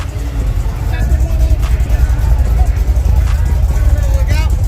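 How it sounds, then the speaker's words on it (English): Old Buick Regal G-body engine revving hard during a burnout at a drag event, a loud, throaty, crackling rumble with crowd chatter and shouting over it. "He got it cackling. That old motor in there."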